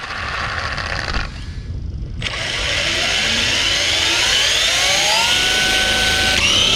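Traxxas E-MAXX RC truck with twin Titan 550 electric motors and a two-speed transmission, a loud rising electric whine that cuts out briefly, then climbs steadily in pitch through a gear change.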